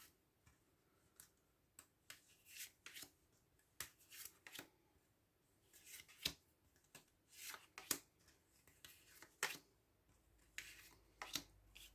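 Tarot cards are shuffled and drawn close up, making soft riffling rustles and light irregular snaps and taps, very quiet.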